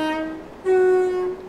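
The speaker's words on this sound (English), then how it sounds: "Oh look, we can do the whistle here, horn thing." A train horn in Train Simulator 2015, two loud sustained tonal blasts, a short one followed by a longer, stronger one, close and clear with no talk over it.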